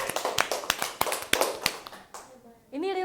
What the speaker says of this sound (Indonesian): boleh tepuk tangan dulu untuk temennya